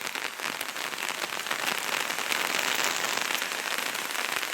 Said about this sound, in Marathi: बघा आपला पाऊस.